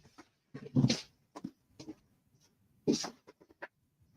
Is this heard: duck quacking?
no